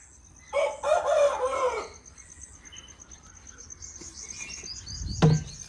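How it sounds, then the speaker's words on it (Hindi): A rooster crows once, fairly near, at a village home in rural Pakistan in the early morning, followed by quieter background sounds and a brief low thump near the end. "माशाल्लाह आज मुर्गा हमारे घर में अजाने दे रहे हैं।"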